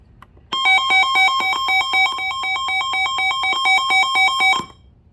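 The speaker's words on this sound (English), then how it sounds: "We're gonna test the alarm." A Sangean CL-100 clock radio sounds its alarm: a loud, rapid electronic ringing pulses steadily for about four seconds, then cuts off abruptly. No other sounds accompany it.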